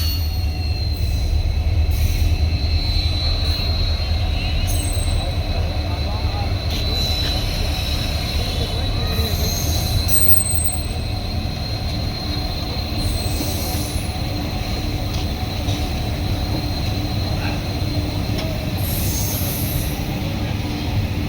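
Twin EMD WDP4D dual-cab diesel locomotives of 4500 HP each hauling a passenger train on Indian railways, with a loud continuous rumble, rolling wheel clatter and intermittent high wheel squeals as the coaches pass close by.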